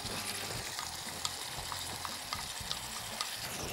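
Sliced pitted olives and thin sticks frying in a pan, a steady close sizzle with occasional light stirring clicks.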